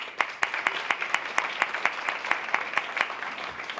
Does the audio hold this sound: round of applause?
yes